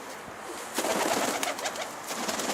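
Karabaş pigeons cooing close by at a loft, several soft throaty coos rising and overlapping in a short burst over a faint background hum.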